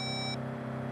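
A single short electronic voicemail tone from a phone in the video game Saints Row, a clean high beep lasting about a third of a second over a low engine-like hum.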